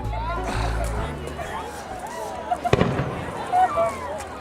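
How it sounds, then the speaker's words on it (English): Fireworks at the 2018 Christmas on the LaHave celebration: a low rumble, then a sharp burst of bangs and crackles midway, with people talking throughout. "Until then, enjoy the fireworks"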